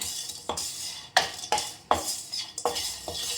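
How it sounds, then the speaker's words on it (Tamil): Roasted sambar powder spices tipped out of a hot pan, with several sharp metallic scrapes and clinks of a utensil against the pan in an uneven rhythm, close and fairly loud with no talking. "இதே எடுத்து கொட்டிக்கிறேன் நான்"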